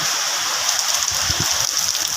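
Heavy rain pours down steadily, a dense continuous hiss of water beating on surfaces with no voices, loud and close throughout.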